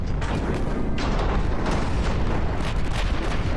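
Battleship main guns firing in the naval warfare game Ultimate Admiral Dreadnoughts, a heavy continuous rumbling roar of boom and blast that stays dense and loud throughout, with no speech.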